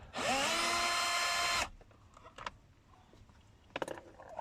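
A power drill whirs loudly and close for about a second and a half while backing screws out of a Mazda 6 dashboard, followed by faint clicks and small handling knocks.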